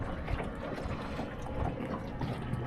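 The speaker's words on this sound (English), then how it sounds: "You can hear the water tapping on the hull of the dinghy down there" Soft, irregular lapping of water against a moored dinghy's hull, faint and close, with a low background murmur from a diesel heater.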